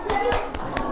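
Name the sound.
classroom applause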